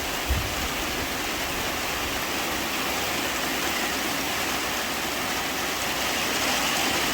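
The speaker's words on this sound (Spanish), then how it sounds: "Qué rico se escucha la lluvia" Steady rain falling outdoors at Lomas de Chicho, a dense even hiss of drops that stays constant throughout at moderate volume, with no voices.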